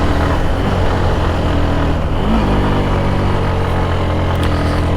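Motorbike engine labouring up a steep slope on the Keokradong road, a loud continuous low drone that dips briefly around a gear change and then pulls on steadily, close and alone.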